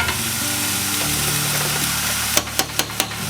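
Lean ground beef sizzles in a hot pan with a steady frying hiss and a low hum underneath. Toward the end come four evenly spaced knocks or taps.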